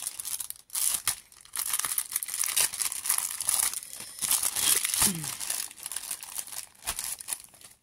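A plastic packet of scrapbooking supplies is opened and handled close up, with bursts of crinkling and crumpling plastic, a few sharp rustles and brief pauses in between.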